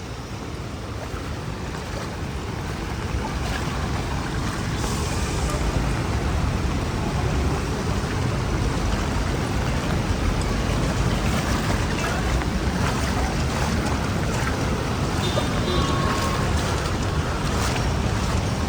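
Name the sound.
floodwater splashing on a flooded Manila street in rain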